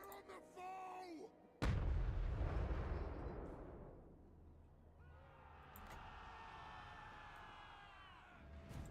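Artillery fires in a Total War: Warhammer III battle with a sudden heavy boom that rolls away into a long rumbling tail, followed by distant battle noise and faint voices.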